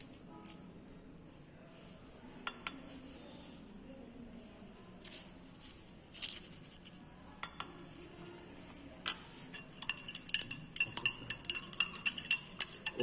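A utensil stirs acetamide into water in a glass, giving light clinks and scrapes that grow busier and sharper toward the end over a quiet background.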